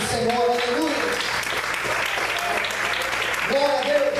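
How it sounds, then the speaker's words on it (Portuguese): Church congregation applauding and praising the Lord, steady crowd clapping throughout with voices calling out over it at the start and end. "você pode aplaudir e exaltar o Senhor"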